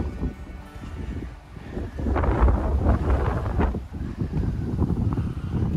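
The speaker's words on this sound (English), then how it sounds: "it's windy as heck up here" Wind blowing across a high lookout above the town of Nipigon, buffeting the microphone with low, uneven rumbling gusts that strengthen partway through, no talk.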